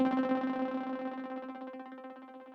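A sawtooth synth tone shaped by a low-pass filter envelope passes through a tempo-synced delay. One bright attack is followed by rhythmic pulsing echo repeats that fade gradually over a couple of seconds.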